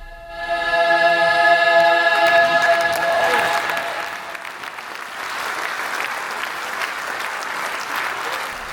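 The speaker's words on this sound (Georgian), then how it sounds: "მაყურებელმა კი უწყვეტი აპლოდისმენტები მიუძღვნეს" Sustained audience applause at a choreographer's honoring evening in Ozurgeti, a dense, continuous roar of clapping that follows a fading sung chord and carries on steadily to the end.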